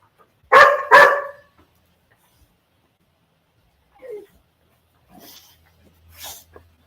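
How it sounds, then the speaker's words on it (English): Dogs bark excitedly as their owner arrives home by car, opening with two loud, close barks in quick succession, then a long pause and a few faint, brief yips and whimpers. "these dogs are going to go crazy now because their owner came home"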